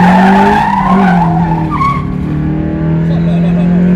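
A Mazda MX-5 engine roars loudly as tires squeal and skid through a drift, with a voice talking over the noise throughout.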